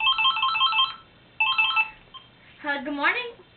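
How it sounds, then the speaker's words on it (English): A telephone rings in two bursts of electronic trilling, fairly close and clear, followed by a voice speaking afterward. "if the phone goes ring, ring, you... I know. I pick up the phone."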